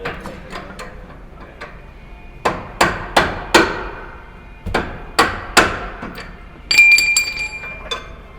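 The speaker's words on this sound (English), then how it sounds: "That's why I needed the hammer." Hammer blows on a steering part of a lifted Jeep during a steering upgrade, a string of sharp metallic strikes in small clusters, close and ringing, with a bright clink near the end.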